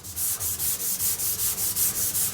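A wire brush or abrasive scrubbing hard at rusty metal, a rapid, steady series of about a dozen rasping back-and-forth strokes, close and loud, with no talking.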